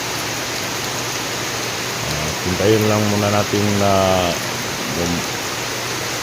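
Steady heavy rain hisses throughout, with a voice speaking briefly over the downpour midway.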